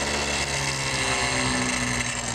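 A 5 HP Briggs & Stratton engine turned slowly by a variac-controlled drive, giving a steady, close mechanical whir with a buzzing hum and no talk.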